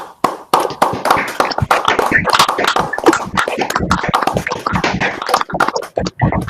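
Audience giving a round of applause after a talk at an innovation event, many sharp distinct hand claps in an uneven close rhythm, loud and steady from start to finish.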